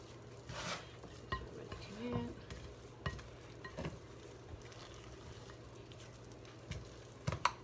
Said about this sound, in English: So we're going to just kind of like mix this in with this spatula.